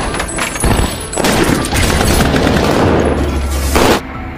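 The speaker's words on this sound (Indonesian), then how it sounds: "baku tembak antara perampok dan agen FBI pun dimulai." Heavy movie gunfight between bank robbers and FBI agents in The Town, with loud sustained bursts of automatic gunfire and booming shots filling the scene, briefly easing before resuming near the end.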